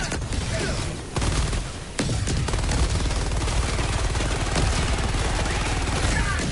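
Sustained automatic AK rifle fire roars loud and close in a shooter game, a dense unbroken stream of shots with a couple of brief gaps early on.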